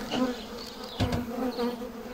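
Honey bees buzz at their hives, a close, steady droning hum that swells and fades slightly over about two seconds.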